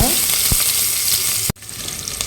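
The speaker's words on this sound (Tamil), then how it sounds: "கடுகு நல்லா பொரிஞ்ச பிறகு ஒரு கைப்பிடி வெங்காயம் சேர்த்துக்கோங்க" Onion fries in oil with popped mustard and fennel seeds, making a loud continuous sizzle with a few sharp stirring knocks and a brief dip.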